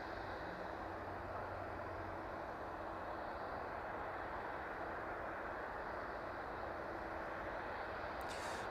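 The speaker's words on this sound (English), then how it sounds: "There it goes, safely taxiing off the runway." An airplane at East Midlands Airport taxiing after landing, a steady, distant engine roar and rumble that holds evenly throughout.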